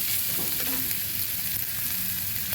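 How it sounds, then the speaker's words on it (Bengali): Chopped onion and ginger paste fry in a pan with a dense, continuous sizzle and some faint stirring. The sound is close and steady throughout, with no talk. "এখন পেঁয়াজ কুচিটা দিয়ে দিলাম আদা বাটার সঙ্গে দিয়ে দিয়েছি ভালোভাবে ভেজে নেব"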